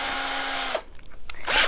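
A power drill whirs loudly and steadily as a drill bit is tightened in its chuck, then cuts off abruptly, leaving short clicks and a brief spin-up burst.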